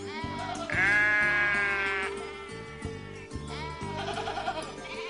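A herd of goats bleats in loud, wavering calls, one long cry rising over steady low rumbling, then another bleat following a short pause.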